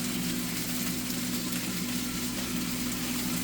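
Onion and mushrooms frying in hot oil in a pan, a steady close hiss and sizzle with a constant low hum underneath and no talk.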